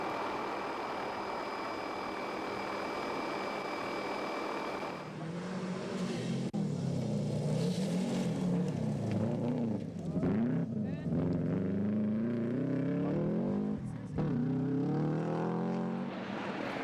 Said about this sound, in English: Ray Reid and Scott Taylor and their Subaru Impreza were slowly turning things around.